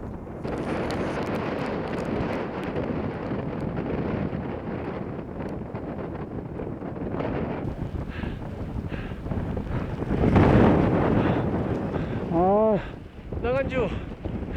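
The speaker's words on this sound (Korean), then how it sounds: "다행히 지난번보다 바람이 세진 않았다." Wind gusts across a Himalayan mountain ridge, roaring steadily into the microphone and swelling louder midway, with a voice calling briefly near the end.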